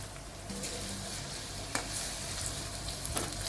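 Green chilli and onion sizzle steadily in hot oil with cumin, with a few faint clinks of stirring and no voices.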